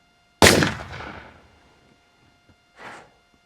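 A single sharp gunshot sound effect cracks loudly and decays over about a second, followed by a fainter short burst, with no talk.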